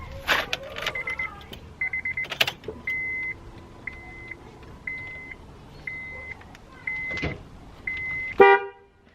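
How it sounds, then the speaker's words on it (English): A Honda Civic FD2 horn sounds through a newly fitted OEM+ steering wheel with a run of short, evenly spaced honks, loud and close. A few clicks and rattles from handling inside the car come first. "I'll honk the horn to make sure that works."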